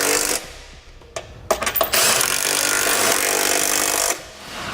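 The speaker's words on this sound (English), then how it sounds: "Now tighten all your hardware down using a 19mm socket." Ratcheting a 19mm socket down on trailer hitch bolts under a 2017 Infiniti QX60, a loud, steady stretch of metallic grinding and clatter broken by a few sharp clicks, close and continuous with no talk.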